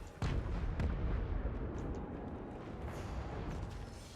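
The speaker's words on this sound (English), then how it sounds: "Let's let our artillery do a little bit of the Ready work" Artillery barrage in a fantasy strategy video game: a sharp opening blast followed by rolling, continuous booming impacts and a few distant cracks, moderately loud and steady with no voices.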